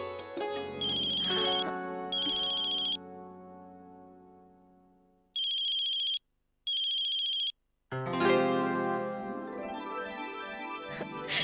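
A telephone ringtone of an incoming call in a Tamil TV serial plays loud and clear on its own, as melodic ringing bursts broken by pauses and two short rings before the tune resumes.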